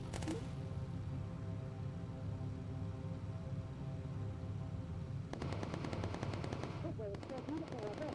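Machine-gun fire from bomber gunners in the air-combat game Bomber Crew, a dense ongoing rattle of bursts with a sharper, louder volley near the end.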